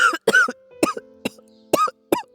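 An elderly man gives a series of six harsh, separate coughs, close and loud, spaced by brief pauses in a quiet room.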